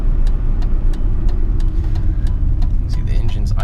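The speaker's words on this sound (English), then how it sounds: "See the engine's idling about 600 RPM" A BMW E30 engine idles at about 600 RPM, a steady, heavy low rumble close by, while a person talks over it.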